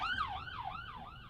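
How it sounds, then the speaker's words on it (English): An ambulance siren wails in repeated rising and falling sweeps, fairly faint and distant as it passes along a street in Sierra Leone, with no talk over it. "there's an ambulance coming"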